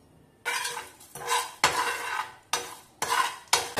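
Fennel seeds, coriander seeds, whole garam masala and a bay leaf are dry roasted in a pan, heard as a series of six sharp scraping stirs with a metal utensil against the pan, each fading before the next.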